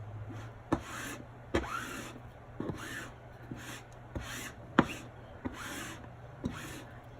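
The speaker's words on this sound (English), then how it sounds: "we're going to squeegee down." A handled squeegee scrapes chalk paste across a silk screen in short repeated rubbing strokes, quiet and close, with light taps between passes.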